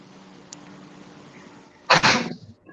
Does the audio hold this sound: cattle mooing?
no